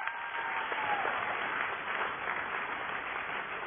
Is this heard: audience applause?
yes